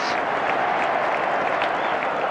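Stadium crowd applause as Manchester United are handed the cup, applauded by the losing side, a continuous dense roar of clapping from a large distant crowd.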